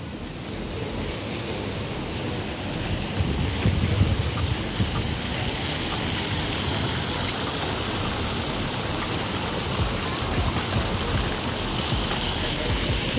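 Water from a fountain and small waterfall inside Vendome Mall in Qatar rushes and splashes in a continuous, even wash, steady and fairly close throughout.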